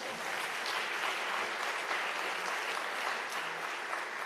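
Audience applause at a college speaker series event fills the room, a dense steady clapping that holds at even loudness for several seconds without talk.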